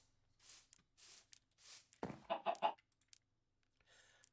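A chicken in Baldur's Gate gives a rapid run of short, quiet clucks after a few soft, breathy rustles, the whole sequence faint and brief.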